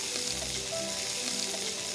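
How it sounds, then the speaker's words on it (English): Chopped onions and garlic frying in olive oil, a steady close-up sizzle and crackle that holds evenly throughout with no voices. "cook 2 large chopped onions in olive oil along with some garlic"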